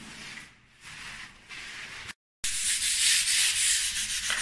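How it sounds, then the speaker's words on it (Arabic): Fine 400-grit sandpaper rubbed over a wall before painting, in steady back-and-forth scratchy strokes, close up, with a short pause and then louder, faster sanding. "بنصنفر الجدران بصنفرة ميتة خالص، تكون يعني مثلا 400 صنفرة ناعمة خالص"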